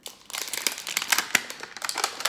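LOL doll plastic packaging is torn and crinkled open by hand, a close run of sharp rustling crackles and rips.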